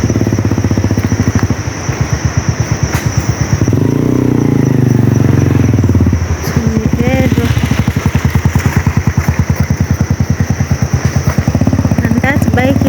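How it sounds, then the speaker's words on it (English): A motorcycle loaded with bread and kangumu rumbles along a road on an evening walk toward Midheru, its engine pulsing steadily and loud throughout, swelling as it passes close by. "And that bike is carrying bread and kangumu."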